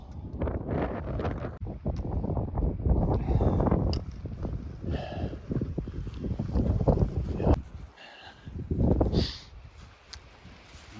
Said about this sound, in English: a lot of wind up here